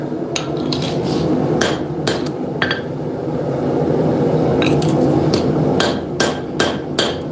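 Hammer strikes on a tomahawk head resting on an anvil during forging, sharp ringing metallic blows coming in irregular clusters of single and double hits over a steady background hum.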